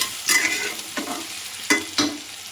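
Whole spices sizzle in hot oil, a soft continuous fry punctuated by a few sharp crackles and stirring scrapes, close and fairly quiet.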